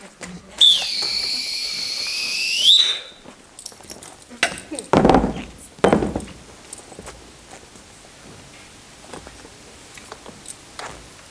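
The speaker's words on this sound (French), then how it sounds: "Où est-ce qu'il est mon sifflet?" At an improv show at a Paris festival, a referee gives one long, shrill whistle blast near the start, followed by footsteps, knocks and scattered stage noises.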